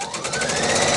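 A quilting sewing machine runs a fast, steady stitch, loud and close, a rapid even mechanical chatter that holds for the whole second.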